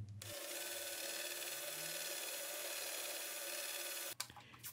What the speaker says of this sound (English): This was a nice moment for me to drill the hole for the string.